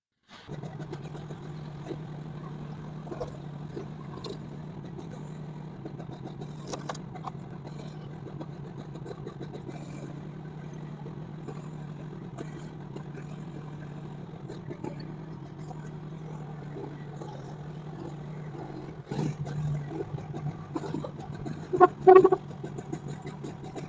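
A mini excavator fitted with a homemade snow pusher drones with a steady low engine hum while shoving snow, and a few louder knocks and scrapes come near the end.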